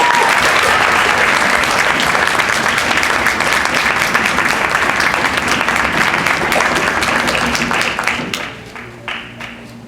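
Loud, dense audience applause for student music leaders at an elementary school strings concert, a sustained roar of many hands clapping that thins out and fades near the end as a voice begins.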